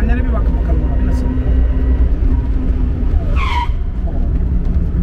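A Yuki Amy Mini car braking hard on rear-only brakes: steady, loud road and motor rumble with a short, rising tire squeal near the end. A voice may be mixed in.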